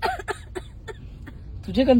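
A person coughs several times in short, sharp bursts spread evenly over two seconds, followed by a brief voiced sound at the end.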